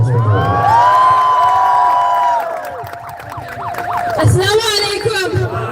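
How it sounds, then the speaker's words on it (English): Crowd at a Manchester Gaza protest rally applauding and cheering for a 14-year-old Palestinian speaker, with loud whoops and sustained shouting voices, rising and falling over several seconds. "Let's have a huge round of applause for him."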